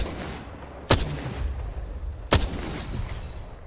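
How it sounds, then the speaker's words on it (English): Two sharp, loud gunshots from the Apex Legends battle royale game ring out about a second and a half apart over a low background rumble. "Opening fire."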